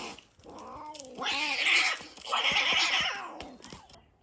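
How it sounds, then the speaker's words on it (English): Cats fighting near a campsite in Emilia-Romagna, Italy: two long, rising and falling yowling caterwauls with snarling edges, loud and close, with no voices. "okay, that was a cat fight."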